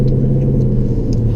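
Low, steady exhaust rumble from a Lexus RC F fitted with a catback exhaust and titanium tips, idling or crawling in eco mode with windows up, a continuous close drone with no talk.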